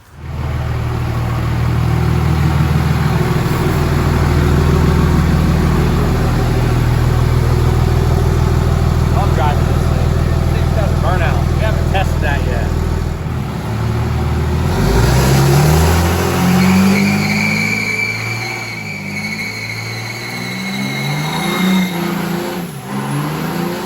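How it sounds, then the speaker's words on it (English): A Cummins diesel Chevy truck on mud tires does a burnout, its engine roaring loud and steady up close for several seconds, then revving and winding down while tires squeal and the engine rumbles on. "It does pretty good little burnout."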